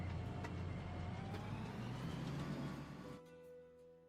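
A vehicle engine in the industrial building game Captain of Industry drones at a high, strained pitch, then drops off to a lower hum near the end, faint and with no talking.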